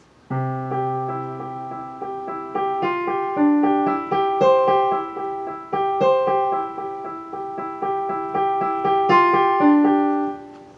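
Solo piano plays a steady, moderately paced melody of repeating notes from a piece from Pride and Prejudice, clear and close, with no talking.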